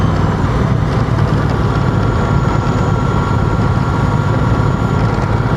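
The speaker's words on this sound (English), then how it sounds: "But this V-twin, man, it just sounds so good." A 2025 Moto Guzzi Stelvio V-twin motorcycle engine runs with a steady, loud rumble without a break, low and throbbing, with no voices over it.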